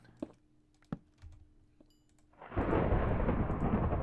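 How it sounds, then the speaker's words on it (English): Minecraft thunderstorm in the PolyCraft mod opens with a few sharp clicks and taps, then a loud rolling thunder rumble with steady rain noise that swells and continues to the end. "I'm thinking with the thunderstorm"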